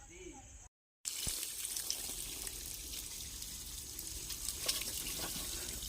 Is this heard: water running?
yes